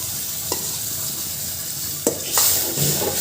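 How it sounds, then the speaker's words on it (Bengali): Prawns tipped into a frying spice mixture set off a loud, steady sizzle, broken by a few sharp scraping stirs and a sudden burst of frying as they land. "দিয়ে দিচ্ছি চিংড়ি মাছগুলো।"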